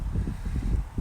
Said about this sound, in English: I really hope it's not too windy up here for you to hear me.